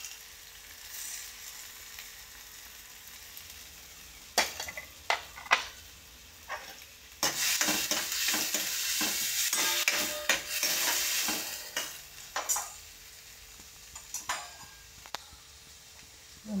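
Tomatoes, green chili and curry leaves hit hot oil in a pan, starting with a quiet hiss that bursts into loud, crackling sizzling mixed with stirring scrapes and spatters, then settles to a lower simmer.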